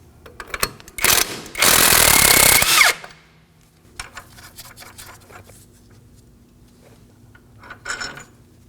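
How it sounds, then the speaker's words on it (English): Hand tools work loose the second steering knuckle mounting bolt on a 2013-2019 Nissan Sentra, with a loud, sustained burst of grinding, ratcheting noise near the start, then scattered lighter clicks and mechanical taps. "let's go ahead and remove the second mounting bolt"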